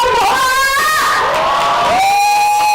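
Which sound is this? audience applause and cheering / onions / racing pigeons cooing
audience applause and cheering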